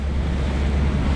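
Big sea waves surging around a boat travelling from Mindoro to Navotas in stormlike wind, a steady loud wash of water and wind with no talk.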